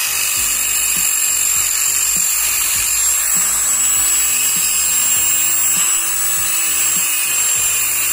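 An electric drill fitted with a cutter bores inside a bamboo tube for a homemade flask, giving a steady, loud, high-pitched whine with faint rhythmic chattering beneath it, continuous throughout.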